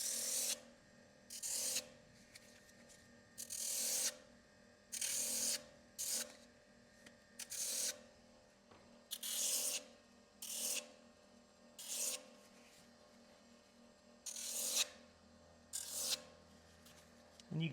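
A sander works on leather in a leather shop, making short, even rasping bursts about once a second, each loud and gritty, with a low hum in the gaps between strokes.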